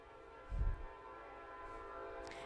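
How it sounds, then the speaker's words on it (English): A train passing close by, with a deep rumbling thump partway through and a sustained tonal horn-like hum lingering underneath; fairly faint overall, no talking. "Ignore the train."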